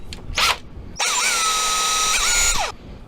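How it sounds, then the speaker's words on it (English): A power drill bores into a piece of soft silverware for a windchime, starting with short bursts and then running in one long, loud whine whose pitch dips and recovers before it stops. "now we're gonna drill."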